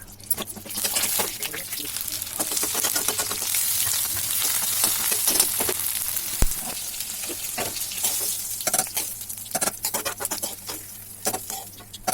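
Whole spices for a tempering (phoron) crackle and sizzle in hot oil in a pan before dal and soybean chunks are cooked, a dense steady frying hiss with scattered pops and clinks throughout, and soft speech faint underneath.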